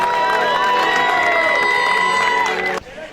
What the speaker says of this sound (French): Stéphanie Chauvelet, sous vos applaudissements.